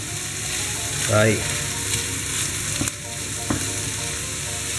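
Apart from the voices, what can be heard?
sautéing boletus mushrooms with meat and onion in a pan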